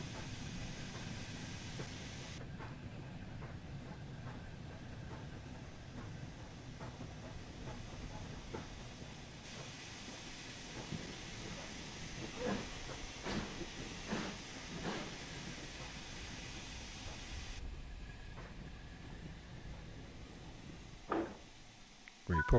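A Fowler 4F steam locomotive in Train Sim World slowing under brake, with a long steady steam hiss, scattered metallic clanks and a sudden heavy jolt near the end.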